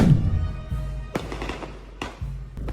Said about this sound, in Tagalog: Pinakinang ng fireworks display ang pagdiriwang ng linggo ng muling pagkabuhay ni Jesucristo